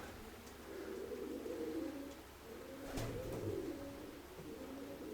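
Soft, low pigeon coos repeat in gentle rolling phrases, somewhat distant, over a faint steady background hum.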